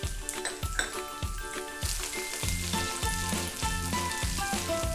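Slit serrano peppers fry in a pan for chilli chicken, giving a steady, bright sizzle with occasional utensil clinks and soft background music.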